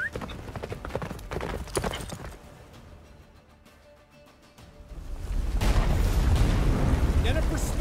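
In The Witcher 3 the horse Roach gallops with rhythmic hoofbeats, loud at first, fading briefly, then returning under a growing rumble of battle noise and booms, with a voice speaking over it.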